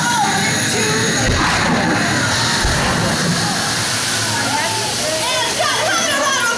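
Torpedo-hit water effects at a Disney World Pearl Harbor theme park reenactment: a continuous loud rush of splashing, gushing water fills the scene, with crowd noise and brief voices mixed in.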